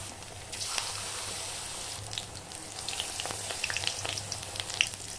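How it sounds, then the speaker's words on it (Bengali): Batter-dipped bok flowers fry in hot oil as fritters, giving a continuous crackling sizzle with scattered sharp pops and spatters that grow busier near the end, heard close up with no talking. "এরপর এই বকফুলগুলোকে এই ব্যাটারের মধ্যে ডুবিয়ে তেলে দিয়ে দিলাম।"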